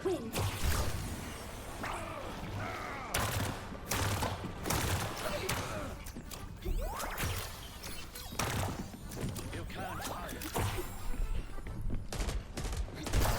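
Chaotic Overwatch combat with dense bursts of gunfire, whooshes and impact cracks piling over one another at moderate loudness, busy and continuous throughout.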